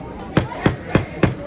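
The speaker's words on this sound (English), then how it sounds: "Do you want to hammer that with Daddy?" A hammer strikes repeatedly at a kids' workshop in a Home Depot store, five sharp evenly spaced knocks close by.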